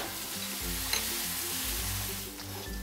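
Chopped tomato sizzles and fries steadily in a pan for a Maharashtrian mixed vegetable curry, a continuous close hiss with soft stirring scrapes and no voices.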